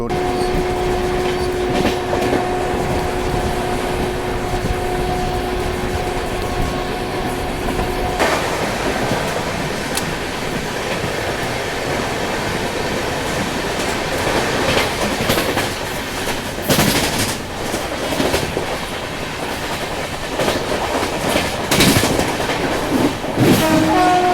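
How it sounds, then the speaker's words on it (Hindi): The AC Duronto Express between Mumbai and Howrah rolls along the rails with a steady loud rumble and rhythmic clatter of the wheels, a sustained tone early on and sharper clanks later. "ट्रेन मनमाड को स्किप करने वाली है।"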